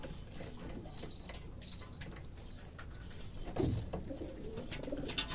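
Pigeons being fed corn give soft, low cooing calls, most clearly a brief coo near the middle, over a steady background of rustling and faint ambient noise.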